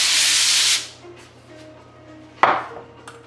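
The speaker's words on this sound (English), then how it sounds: "So I'm going to spray it out here." Cooking spray hisses from an aerosol can onto a baking pan for eggplant with garlic, one steady close burst lasting under a second, followed by quiet kitchen clatter and a sharp knock.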